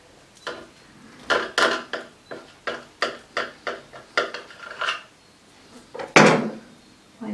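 A knife slices through soft stuffed bread filled with calabresa sausage, giving a quick series of close crusty crunches and rasps with short pauses, ending on one louder cut.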